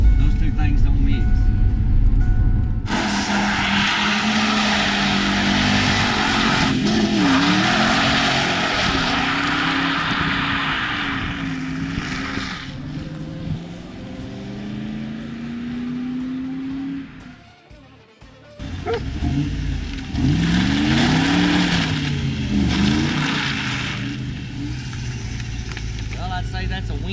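A Ford Mustang cruises on a wet road as its engine climbs through the gears, with loud sustained drone and repeated rising pitch sweeps, a brief dip between gear changes and an occasional voice underneath.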